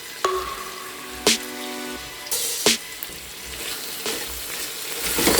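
Mashed garlic and ginger hit a hot pan and fry with a bright sizzle, broken by a few sharp utensil knocks and clinks, close and fairly loud, with no talking.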